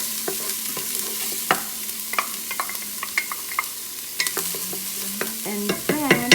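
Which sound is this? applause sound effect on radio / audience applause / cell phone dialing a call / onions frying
onions frying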